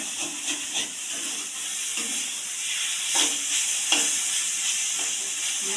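Spinach fries in a pan for a green leafy chachchari, a steady close hiss and sizzle running throughout, with occasional brief crackling pops.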